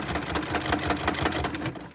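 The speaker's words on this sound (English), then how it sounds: "now I'm gonna 1/8 inch sew this" A sewing machine runs a steady eighth-inch seam through layers of bag fabric. Its rapid, even needle stitching stays close and continuous for the whole stretch and eases off slightly near the end.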